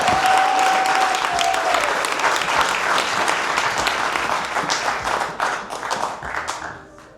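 A large audience at a Women of the Year awards ceremony applauds loudly and steadily for several seconds, then the clapping thins out and fades toward the end.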